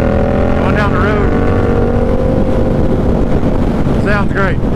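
A Yamaha MT-07 motorcycle fitted with an eBay KO Lighting aftermarket exhaust rides down the road, its loud engine roar rising and falling through gear changes amid steady wind rush.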